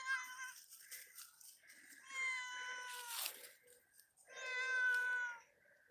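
Cat meowing on a farm, several drawn-out, loud close meows with a strained caterwauling edge, separated by short pauses, with no talk over them.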